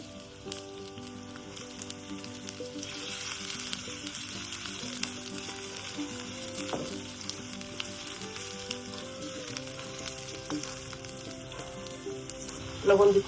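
Chopped garlic and onion frying in mustard oil, a loud continuous crackling sizzle heard close up, with occasional clinks of utensils and a sharper burst near the end.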